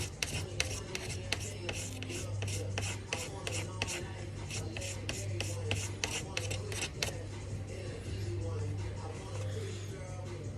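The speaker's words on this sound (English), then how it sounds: "I'm just trimming that edge right there." A blade trims an edge in quick, repeated scraping strokes, a rapid rasping rhythm up close over a steady low hum, easing off in the second half.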